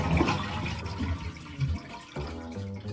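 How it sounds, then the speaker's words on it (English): A toilet flushes with a rushing, gurgling surge of water that drains down, loud and close, during a fill valve replacement. "why don't you flush the toilet now?"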